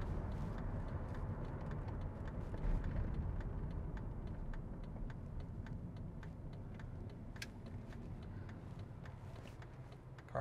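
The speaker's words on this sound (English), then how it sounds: "Car idles real nicely." 2004 Chevrolet Monte Carlo Intimidator SS with a V6 engine idling, a low, quiet, steady rumble with a faint rapid ticking over it throughout.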